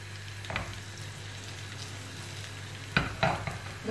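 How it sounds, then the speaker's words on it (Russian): Syrniki, Russian cheese pancakes, fry with a low, steady sizzle in a pan. A few sharp clinks and scrapes of a utensil against the pan cut through, and nobody speaks. "Не хотите жариться? Давайте вам огонек."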